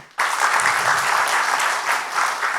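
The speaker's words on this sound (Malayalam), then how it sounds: "എല്ലാവരും ഒന്നും കൂടി കൈയടിക്കാമോ?" An audience at a live comedy show bursts into loud, sustained clapping that starts abruptly and carries on evenly to the end.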